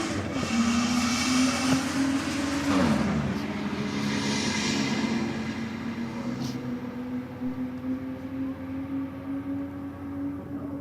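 A Ford Falcon drag car running down the strip at a night meeting, a distant engine tone climbing then holding steady as it pulls away, with crowd and track ambience around it.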